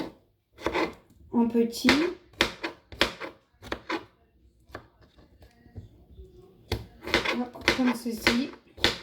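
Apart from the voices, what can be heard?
knife chopping ingredients for tabbouleh on a board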